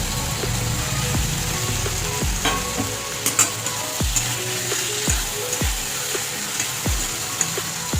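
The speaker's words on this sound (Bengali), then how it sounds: "এবার ক্যাপসিকামটা দিয়ে একটু করবো ভাজা ক্যাপসিকাম" Capsicum fries in a pan for a spicy egg curry, giving a steady loud sizzle broken by regular scraping stirs of a spatula about once a second, with no talking.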